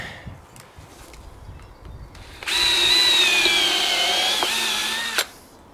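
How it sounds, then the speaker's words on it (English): A power drill drives screws through wood while shaping a giant wooden mushroom on a lathe, one steady whining run of about three seconds, close and loud, starting abruptly after quieter workshop background and cutting off sharply. "we can whack a few screws through then"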